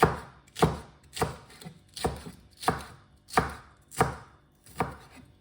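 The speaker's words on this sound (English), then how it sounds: "the green slices I will just do as rounds" A knife slices spring onion into rounds on a cutting board, giving eight crisp, evenly spaced chops in a steady rhythm, close and clear with no talking.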